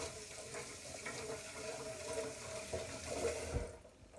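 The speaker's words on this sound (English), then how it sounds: "I want to wash my hands" Water runs steadily from a kitchen tap as hands are washed under it, a soft continuous splashing rush heard close up at low volume with no voices.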